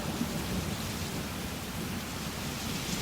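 Theme park tour effect of a rainstorm with thunder: a steady, dense rush of rain and rumbling noise that stays even for the whole stretch, fairly loud and with no talk.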